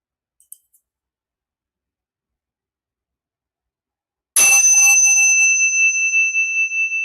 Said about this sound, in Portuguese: Deixa que o som do sino seja um sinal para você relaxar, soltar